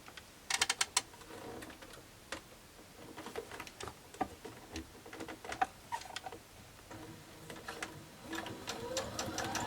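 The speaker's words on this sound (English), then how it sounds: "And then stitch my rows together and press all my seams in one direction." Sewing machine stitching rows of a mini quilt together, a faint, close patter of rapid needle strokes in uneven bursts, with light handling clicks.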